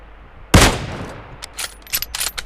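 In a battle royale video game, a sniper rifle fires one sharp, loud crack whose echo fades out, followed by several fainter, more distant shots.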